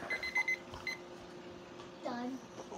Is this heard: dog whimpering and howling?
no